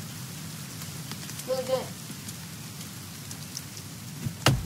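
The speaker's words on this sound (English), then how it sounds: "That's good, it's raining." Rain patters steadily on surfaces in a forest, a soft continuous hiss with scattered drops, while a person speaks briefly over it.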